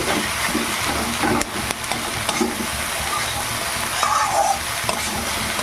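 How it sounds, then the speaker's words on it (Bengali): Okra frying in oil in a pan, a continuous bright sizzle and hiss with occasional stirring clicks and scrapes, no voices. "আমি একটু তেলে প্রথমে ভেজে নেবো"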